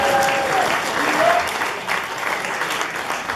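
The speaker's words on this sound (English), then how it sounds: "Let's give a round of applause for Tristan again." Guests at a wedding reception in Jasper, Canada clap together in sustained, dense applause filling the room, loud and even throughout with a few cheers mixed in.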